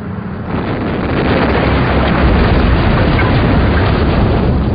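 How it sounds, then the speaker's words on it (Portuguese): Explosion welding set off deep underground in a mine, a loud sustained roaring blast rumble that builds within the first second and holds steady, heavy in low tones with no speech over it. "E isso é chamado de soldagem por explosão."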